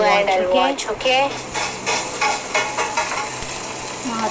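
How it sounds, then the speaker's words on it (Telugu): Fish frying in a pan, with steady sizzling and stirring beneath a voice at the start. "ఫిష్ ఫ్రై చేస్తున్నారు"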